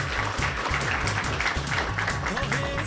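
Applause from an audience at a Punjab Autos dealership lucky draw event in Gujranwala, dense clapping carrying throughout over a steady, loud thumping music beat.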